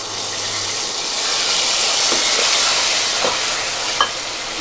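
About a quarter tumbler of water hits a hot pan of sizzling tempering with green chillies for dhokla. It makes a loud, sustained hiss and crackle close by, with a few soft stirring knocks near the end.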